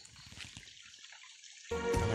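River water stirred while wading across a stream on a squirrel and dove hunting trip outdoors, soft sloshing and trickling up close that swells into a louder, fuller rush of splashing water at the end.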